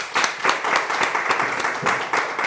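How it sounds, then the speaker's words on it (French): A small gathering at a temple claps in a loose, uneven burst, the hands audibly separate and close by, with brief voices mixed in. "On doit l'applaudir."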